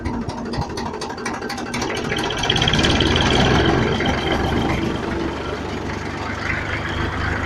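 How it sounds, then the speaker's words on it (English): A potato harvester's engine is given gas and revs up, a loud, dense mechanical roar that swells midway and then eases back to a steady running drone, with no voices. "I will give some gas here."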